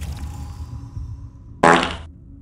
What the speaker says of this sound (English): Thank you for the fart.